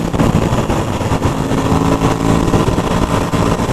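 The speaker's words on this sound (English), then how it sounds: "Oh, listen to that exhaust, it's lovely." An Aprilia RS660 motorcycle's exhaust note rumbles steadily and loud from up close while the bike rides along, with a sustained engine drone and rush of wind throughout.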